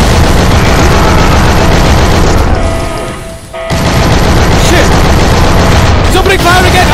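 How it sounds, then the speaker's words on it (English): Cannon blasts and heavy gunfire in the video game Shank 2, loud booming bursts that drop out briefly in the middle before the barrage resumes. "Oh, it's a cannon!"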